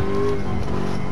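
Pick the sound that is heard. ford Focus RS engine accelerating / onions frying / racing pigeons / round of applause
ford Focus RS engine accelerating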